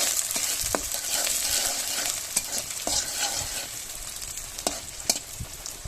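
Green chilies and onions frying in oil in a pan, with steady sizzling and sharp scraping stirs that repeat throughout, up close and fairly loud.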